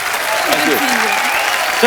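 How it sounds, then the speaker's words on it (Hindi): Studio audience at a Hindi comedy talk show breaking into loud, dense applause and cheering for a guest, steady throughout, with a host talking over the clapping. "जोरदार तालियां"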